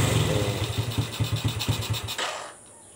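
An old Honda C70 motorcycle engine sputters for lack of fuel, chugging in uneven close-up pulses before cutting out near the end.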